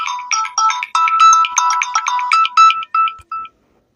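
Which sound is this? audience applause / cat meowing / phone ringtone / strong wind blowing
phone ringtone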